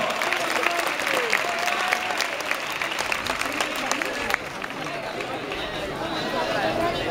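Crowd applause at a competition in Fitero, Navarra, a steady clapping wash under an announcer talking over the loudspeaker, dipping slightly partway through before continuing.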